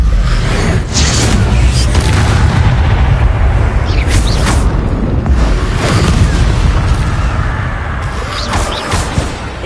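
Spell effects from the Hogwarts Legacy video game, played on PlayStation 4 Pro, with the Expelliarmus spell: a continuous loud roar of booming blasts and bursts with rumbling low end, sustained throughout.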